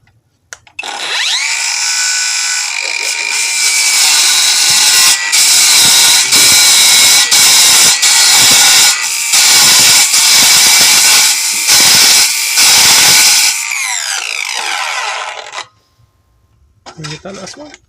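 A Bauer brushless circular saw cuts through lag bolts, a loud close whine broken by repeated grinding bursts and stutters as the blade bites the metal, then the motor winds down near the end.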